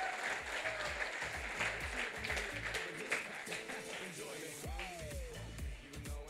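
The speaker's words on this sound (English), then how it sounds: "Round of applause." Applause from the audience at a schools debate prize-giving, a continuous moderate patter of clapping heard from some distance, with faint background voices and a brief tonal sweep near the end.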